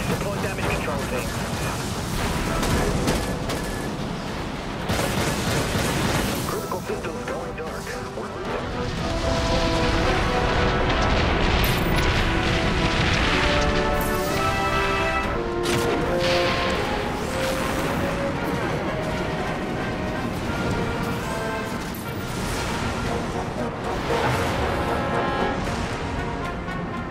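Missile impacts and booming explosions in the naval space-combat video game Dreadnought, dense continuous rumbling blasts with layered crashes, loud and close, mixed with in-game voice callouts.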